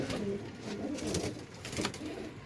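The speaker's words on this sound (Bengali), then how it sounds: "বিদেশি চিটিয়া কবুতর।" Foreign chitiya pigeons in a cage, with soft low cooing repeating through the short stretch amid a busy, slightly noisy background.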